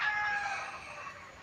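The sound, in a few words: chickens clucking in the yard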